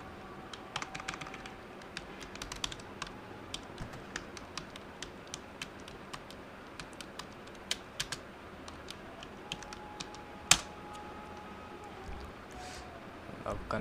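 Irregular keyboard typing clicks, entering a custom yellow-and-black number plate while customising a car in GTA V, sounding as close, sparse taps with brief pauses and one sharper click near the end, over faint background hum.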